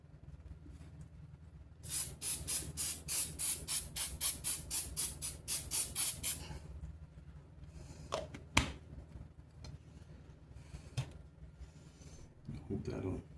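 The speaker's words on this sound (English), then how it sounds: "Let's spray this with the accelerator." A spray can of glue accelerator hisses in a rapid series of short bursts for several seconds, then stops, followed by quiet handling noises and a faint voice.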